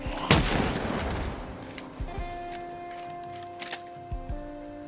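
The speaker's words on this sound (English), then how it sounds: "If they are pulled by the sounds of these gunshots" Gunfire in the zombie survival game Project Zomboid: one loud close shot at the start, followed by a sparse scatter of softer thumps and distant pops over a steady game background hum.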